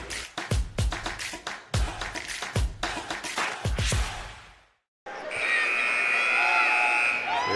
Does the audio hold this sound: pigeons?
no